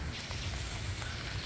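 Rain falls steadily outdoors, making a dense, even hiss of drops with no breaks, moderately quiet and close.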